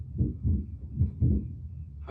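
A steady, muffled heartbeat from a TV show, four deep low thumps in an even rhythm, close and alone.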